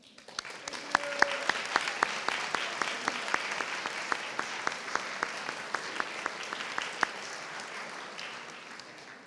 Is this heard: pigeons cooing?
no